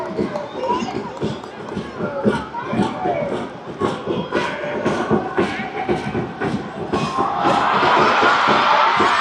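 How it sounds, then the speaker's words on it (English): Football crowd in the grandstands at a Thai premier club match, rhythmic chanting and cheering with pulsing beats, rising to a louder roar near the end, with a nearby voice talking over it. "You hear that crowd."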